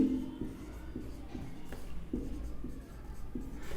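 Marker or chalk strokes on a classroom board during a biology lesson make soft scratching and rubbing sounds, with light taps at regular intervals. The sound is close and steady against a low room hum.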